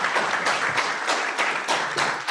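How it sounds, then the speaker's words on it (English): Audience applause for a panel at a law careers event, individual claps audible in uneven bursts at moderate volume, fairly close and with no voices over it. "Let's give the panelists a big round of applause."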